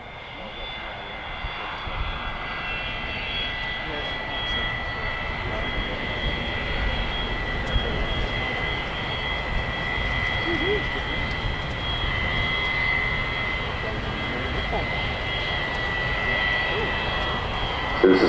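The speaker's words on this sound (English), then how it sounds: "It's a very efficient aircraft, the 787. Low noise footprint." A Boeing 787-9 Dreamliner jet flies a display at the Farnborough 2016 airshow, a continuous low engine roar that builds slightly and sustains, with a commentator talking over it.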